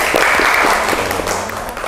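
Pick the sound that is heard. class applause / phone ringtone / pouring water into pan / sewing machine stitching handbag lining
class applause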